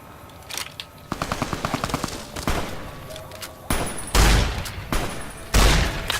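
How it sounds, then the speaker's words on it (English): Gunfire in Fallout: New Vegas, with a rapid automatic burst of shots followed by several heavy, booming single blasts and thuds, loud and close. "Wow, I can't shoot for shit."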